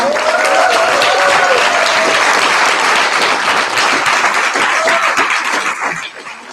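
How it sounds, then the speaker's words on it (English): Big, loud applause from a presentation audience thanking the event organizers, a dense sustained wash of many hands clapping that tapers off near the end. "give them a big, big applause for organizing this event"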